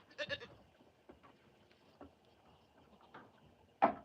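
Goats bleating on a northern farm during daily chores, a few scattered short calls at moderate distance, the last one louder and closer, over quiet background rustle.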